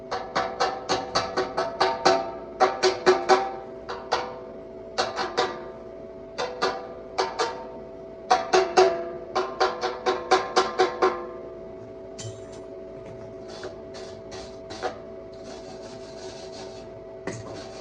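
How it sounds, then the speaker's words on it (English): A chipping hammer and wire brush work over a fresh weld in quick bursts of scratchy, rasping strokes, close and loud, pausing between runs, over a steady electrical hum. "got to have the old chip and hammer, wire brush combo"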